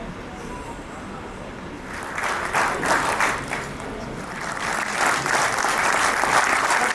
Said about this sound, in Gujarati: ખૂબ જોરદાર તાળીઓ થવી જોઈએ મિત્રો.